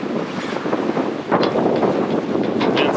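Strong wind of 22 to 24 knots gusting to 30 buffets a sailboat on its first sail, a steady loud roar of wind noise with a sharp gust swelling in the middle, no talking.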